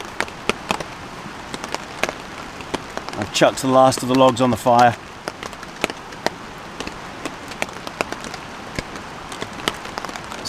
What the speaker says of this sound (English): It started raining again, as you can hear.